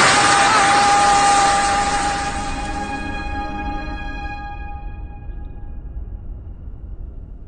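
A dense, roaring wash of hard pelting noise from a severe hailstorm in Gympie, Australia, loud at first and then easing slightly while staying heavy and continuous, violent hail hammering down.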